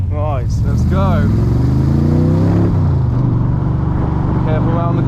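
AC Cobra Dax Tojeiro replica with a 5.7L engine driving, a loud deep rumbling exhaust that rises in pitch as it revs through gears, with someone talking over it at times.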